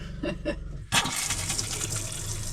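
After a brief low mechanical hum, water suddenly gushes from an RV shower and keeps running steadily and close, a hissing spray filling the rest.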